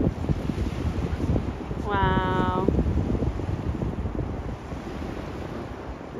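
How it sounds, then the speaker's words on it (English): Big sea waves rolling onto the shore, a steady broadband wash with wind buffeting the microphone throughout, while a person exclaims briefly over the surf. "Look at the size of these waves coming in."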